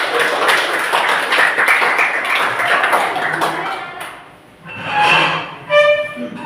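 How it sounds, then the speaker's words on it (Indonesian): Children clap their hands together in an elementary classroom during a patterned class clapping routine, rhythmic bursts of claps that pause briefly and resume with a few sharp final claps. "Ya, tepuk tangan dulu anak-anak."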